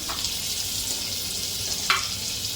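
Amul butter melting into hot oil in a pan gives a steady sizzle and fry hiss, with a brief brighter crackle near the end.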